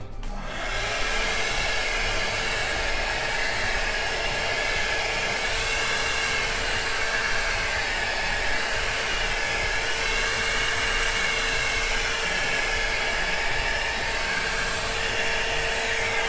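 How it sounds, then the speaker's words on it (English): A heat tool blows steadily over an acrylic paint pour, a loud continuous fan-and-air roar lasting the whole stretch with no breaks and no talking. "Let's put some heat in it and see how the cells turn out"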